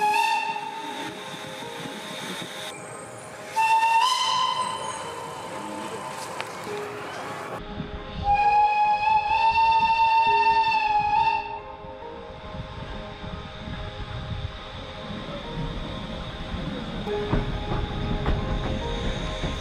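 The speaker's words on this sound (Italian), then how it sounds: "ascoltato da vicino il tipico suono rilasciato da queste fantastiche storiche locomotive" A historic steam locomotive whistle in Romania sounds in several loud, sustained blasts, with hissing steam and heavy railway rumble between and after them.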